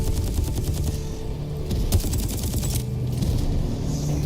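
Gunfire in the tactical shooter Exoborne crackles in rapid automatic bursts, loud and continuous, layered with game effects and low rumbling booms, with no voices.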